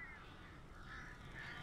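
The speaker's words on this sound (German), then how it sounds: "Das ist richtig, Alan. Hier sind Vögel." Crows caw faintly in the Alan Wake video game, rasping calls scattered over a constant low rumble of wind-like ambience, distant and quiet with no voices.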